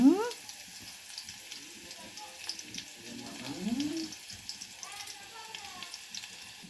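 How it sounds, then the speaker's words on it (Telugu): Small onions dropped into hot tempering oil in a pan, sizzling and crackling softly at close range with a steady low frying hiss, while a voice talks over it in Telugu. "చిన్నెల్లిపాయ వేస్తున్నాను"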